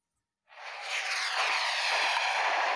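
An airplane engine in a strategy video game starts abruptly and swells into a steady, loud, broad roar that holds to the end, with nobody speaking.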